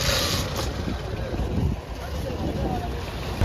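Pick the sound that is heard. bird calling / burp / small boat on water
small boat on water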